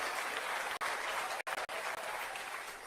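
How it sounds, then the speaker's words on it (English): An audience at a country music show applauds a visiting super fan, a dense wash of clapping with a few brief gaps, steady and moderately loud throughout. "Give her a big round of applause"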